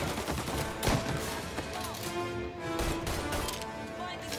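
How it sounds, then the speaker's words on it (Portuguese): Pistol gunfire in Mafia Definitive Edition, a few sharp shots scattered over a busy, layered game soundscape, with one louder crack near the start. "Botar a pistolinha pra dar tiro de longe."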